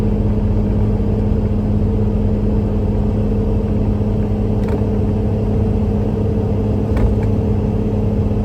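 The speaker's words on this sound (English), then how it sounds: "it still has a good sound of the Cummins engine there too, so it's not like totally quiet, but it's much more tame" A Cummins 6.7 diesel truck engine fitted with an Aero Turbine-XL muffler gives a steady, tame low drone with a deep hum, heard evenly from inside the cab throughout, with no talking.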